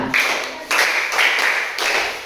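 Applause from a classroom audience after a student group finishes its presentation: steady, dense clapping that swells in a few waves over a couple of seconds, close and fairly loud, with no talking.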